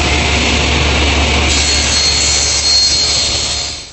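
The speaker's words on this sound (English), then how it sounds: "take the edge that I just trued up and set that against the fence and run the pieces through" A table saw rips wooden pieces guided along the fence while building storage furniture, a bureau, cupboard and bookcase; one loud, steady, close cutting roar runs unbroken through the whole stretch, with no voices.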